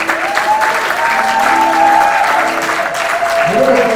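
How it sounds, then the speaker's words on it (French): Wedding guests applaud steadily through a church ceremony, the clapping dense and continuous from start to finish, with sustained music or singing tones running beneath it. "Est-ce qu'on peut applaudir pour le Seigneur?"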